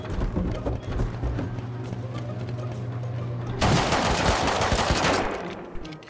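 A shotgun trap fires in the video game Rust, a loud, dense burst of rapid blasts that jumps in suddenly over a busy, noisy game scene with a steady hum beneath.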